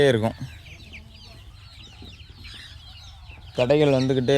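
Chickens and chicks cluck and murmur nearby on a farm, with a louder bird call at the start and another near the end over soft background chirps.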